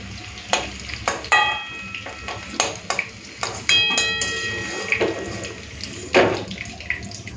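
Potatoes fried until reddish-brown in hot oil give a soft sizzle broken by repeated sharp clinks and scrapes of a utensil against the pan, with bursts of bubbling as the pieces are stirred and lifted out.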